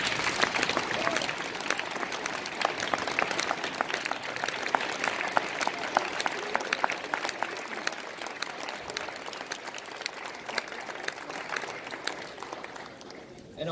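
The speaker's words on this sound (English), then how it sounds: "please join me once again in applauding all of our new members" A crowd at a middle school National Junior Honor Society induction ceremony applauds the new members, sustained dense clapping that holds steady for over ten seconds before thinning toward the end.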